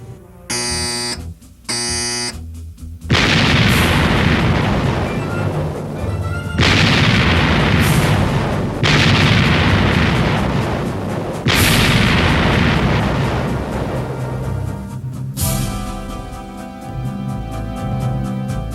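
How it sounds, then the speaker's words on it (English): An Iowa-class battleship fires its turret guns in several heavy, booming blasts, each rolling on for a few seconds, loud and close, after short buzzer tones at the start and with no talk. "Turret 1, all guns, 1 round load. Turret 1, all guns, 1 round load. Shoot!"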